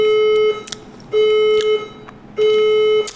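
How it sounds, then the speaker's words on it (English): A building fire alarm sounds, loud and close: steady electronic tone pulses repeat about once a second with bright clicks between them and no talking. "Warning. The fire alarm system has operated."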